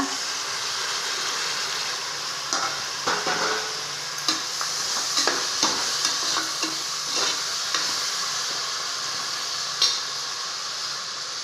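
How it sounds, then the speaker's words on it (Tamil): Tomatoes sautéing in oil with onion and ginger-garlic paste for a bottle gourd rice dish, a steady close sizzle broken by irregular scraping stirs of a spatula against the pan, with no talking. "இப்போ நம்ம தக்காளி சேர்த்து வதக்கலாங்க"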